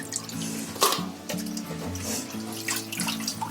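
Tap water runs and splashes in a sink as fish are rinsed, a steady close wash with brief drips and clatter and no talk.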